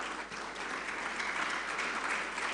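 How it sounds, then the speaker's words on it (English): An audience at a startup funding panel discussion in Nigeria claps steadily throughout, a dense, continuous burst of applause with no voices. "clap, celebrate yourself."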